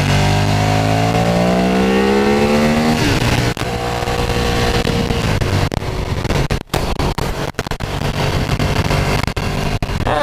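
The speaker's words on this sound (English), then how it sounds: "The stock exhaust sounds pretty good." Ducati Streetfighter motorcycle on a race track with its stock exhaust, revving up through the gears in a loud rising whine, then a steady high-pitched drone with wind buffeting and a few short clicks and dropouts.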